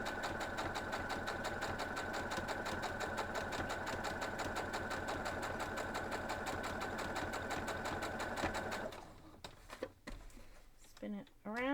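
A sewing machine stitching a quilt block runs steadily and up close for about eight seconds with a fast rhythmic whir, then stops, leaving brief handling clicks and rustles.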